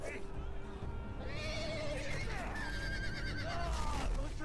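Horses neigh and whinny in a rising, wavering call, repeated a few times over a busy background with talk underneath, in a Game of Thrones video game.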